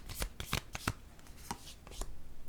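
Playing cards being shuffled and drawn, several quick riffling snaps and flicks close to the mic over about two seconds, with no speech.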